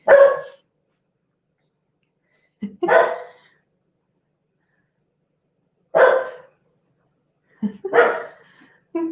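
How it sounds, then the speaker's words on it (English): A dog barks in separate bursts of one or two loud, close barks with silent gaps between them and no talking. "we are getting a little bit of Pucky barking as well"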